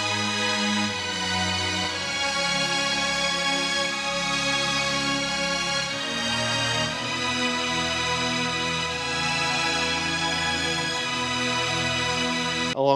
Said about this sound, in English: not including the more pad-like string section, which sounds something like this.